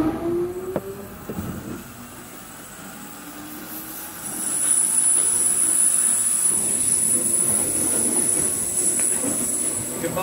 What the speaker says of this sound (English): a train to the Aldgate over there